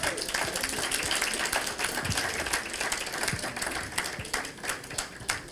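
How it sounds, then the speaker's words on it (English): A crowd applauds the two organizers of the Ghana Property and Lifestyle Expo in the UK as they walk up, the clapping steady and fairly distant, with scattered voices beneath it throughout. "Let's give them a round of applause as they come."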